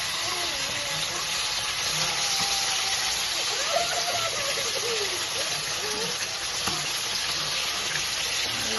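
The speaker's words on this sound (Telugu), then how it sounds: "ఆయిల్ వేడెక్కిన తర్వాత ఈ చికెన్ ముక్కలు ఆయిల్లో ఫ్రై చేసుకోవాలి" Chicken pieces frying in hot oil in a pan give off a steady, even sizzling hiss that stays at a constant level throughout, close and uninterrupted.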